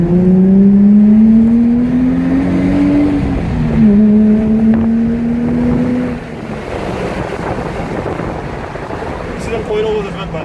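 A Nissan 350Z with a full cat-back stainless steel exhaust revs loudly, its engine note climbing and dropping in two sweeping pulls before settling into a rougher, windy rumble.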